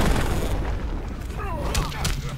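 A deep booming super cannon blast in Injustice 2, followed by sharper whooshing and impact effects, loud and close amid busy fighting-game sound.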